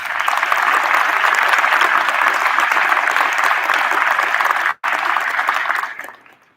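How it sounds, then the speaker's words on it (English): Loud, sustained applause from a large crowd at a high school hall of fame induction night, a dense wall of clapping that cuts out for an instant near the end, then tapers off and dies away. "ladies and gentlemen, I believe that that group in total deserves an incredible round of applause"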